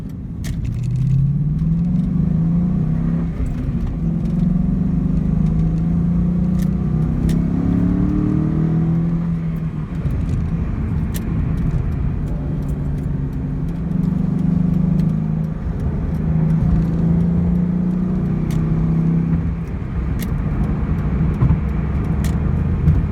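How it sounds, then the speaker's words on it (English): A 2001 Ford Mustang Bullitt V8 accelerating up a freeway on-ramp, heard from inside the cabin as a loud, steady engine drone that climbs in pitch through several gear pulls, with shifts marking each dip. "I'll get up to speed on this on-ramp here and cruising the freeway a bit"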